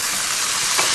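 Beer poured into a hot pan holding brisket gives off a loud, steady, broadband sizzle that hisses through the whole second, swelling briefly near the end, with no voices.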